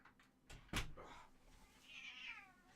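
A cat meows close by, a short call rising after a soft thump, then a longer, faint whining mew against a quiet indoor background.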